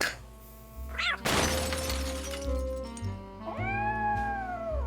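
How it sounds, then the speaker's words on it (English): A cat meows in a Nancy Drew video game, Dossier: Lights, Camera, Curses!, its long drawn-out cries rising and falling over a steady low game hum, with a crash of shattering glass just before. "That's the cat Molly wants me to catch"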